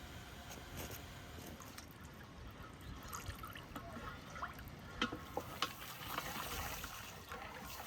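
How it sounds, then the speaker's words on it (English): Brine trickles and dribbles steadily as it is poured into a clay jar and bottles packed with cucumbers, a faint, continuous liquid pour with a few small drips and clinks near the end. "Now my wife is pouring the last bit of brine into the clay jar and all the bottles"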